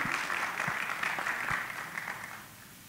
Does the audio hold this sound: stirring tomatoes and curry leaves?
no